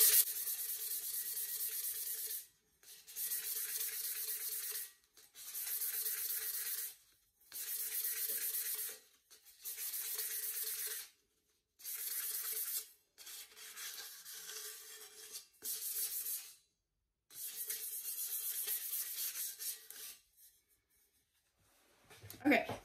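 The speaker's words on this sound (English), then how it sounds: "I'm going to use sandpaper. Mine is, I think 150, and I'm just going to" Cup being scuffed by hand with 150-grit sandpaper, a steady gritty rubbing in repeated bursts of one to two seconds separated by short pauses, close and fairly quiet, with no voice.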